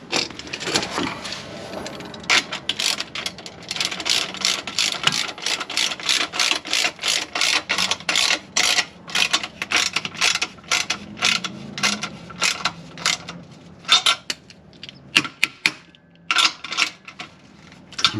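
A ratchet wrench tightens an exhaust muffler clamp on a car, with rapid clicking in dense bursts and short pauses between strokes, close up and without talk.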